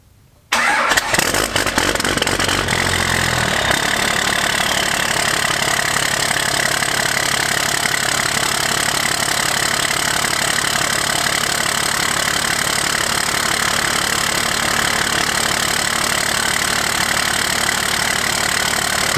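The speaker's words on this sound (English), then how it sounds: "So let's get the door open and start this truck up." A Cummins diesel pickup truck parked in the corner of a barn cranks briefly, fires up, then idles steadily with a loud, constant, rumbling exhaust drone, close and without talk.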